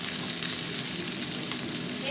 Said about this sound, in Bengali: পেঁয়াজটা হতে থাক, ততক্ষণ হোক ভাজা ভাজা